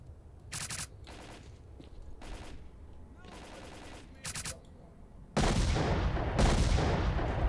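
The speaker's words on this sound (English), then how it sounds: "Single shot to save bullets." Gunfire in the S.T.A.L.K.E.R.: Clear Sky video game: several short, sharp bursts separated by pauses, then a louder stretch of sustained rapid shooting near the end.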